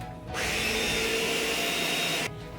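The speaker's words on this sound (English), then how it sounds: "I'm going to put just this stuff in the blender" A blender whirs loud and close for about two seconds while blending keto waffle batter, cutting in abruptly and stopping just as suddenly, with quiet room noise before and after.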